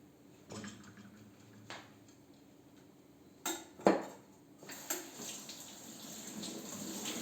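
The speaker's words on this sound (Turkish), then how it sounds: "Bulaşıklarımı da elde yıkıyorum artık" Dishes clink and clatter by hand under running water, with a few sharper knocks of plates and cutlery against a sink, close by.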